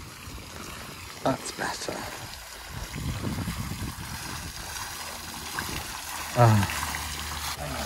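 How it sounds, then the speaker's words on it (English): Water flows and splashes in the gardens of Powis Castle, a continuous outdoor rush with a brief louder splash near the end, while people talk quietly over it. "I feel cooler literally just listening to the water."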